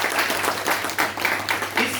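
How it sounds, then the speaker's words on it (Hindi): An audience at a day-one session applauds for the organisers, a short burst of dense clapping with pulsing swells, fairly close and loud, with no voices over it. "इन सब के लिए जोरदार तालियां हो जाए।"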